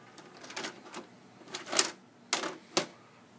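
An Emerson DVD VCR combo, model EWD2004, ejecting a videotape, giving a series of close mechanical clicks and clunks followed by a sharper final clack as the cassette pops out.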